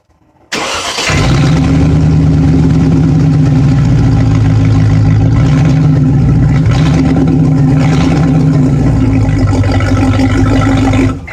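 A Range Rover engine fitted with a MagnaFlow 16899 exhaust with resonator starts up and settles into a loud, steady, deep idle rumble, close and continuous with no talking.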